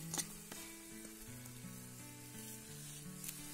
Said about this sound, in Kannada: ಸಾರು ಇದ್ದದೆಲ್ಲ ಸ್ವಲ್ಪ ಫ್ರೈ ಆಗಲಿ.